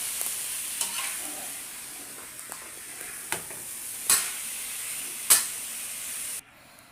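Beef pinapaitan tipped into a hot pot and stirred, a steady soft sizzle with occasional scraping clinks of a utensil, alone and fairly close.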